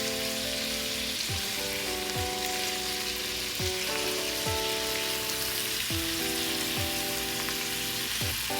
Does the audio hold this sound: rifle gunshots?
no